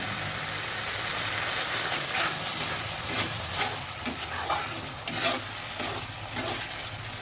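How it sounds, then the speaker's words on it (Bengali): Capsicum and mixed vegetables fried in spiced oil for a restaurant-style mixed vegetable curry, a loud steady sizzle broken by repeated clattering stirs and scrapes of a spatula in the pan. "দিয়ে দিচ্ছি ক্যাপসিকাম এবার দিয়ে দেবো স্বাদ মতো নুন"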